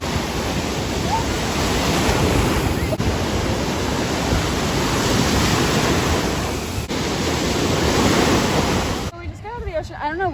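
Ocean waves wash onto a cold beach in a steady, loud roar of surf with gusty wind buffeting the microphone, and the rushing noise cuts off abruptly near the end.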